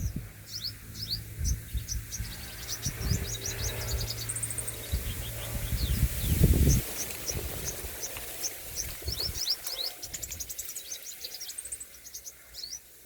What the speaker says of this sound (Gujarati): એક જ ચકલી છે કેટલી પ્રકારનો અવાજ કાઢે છે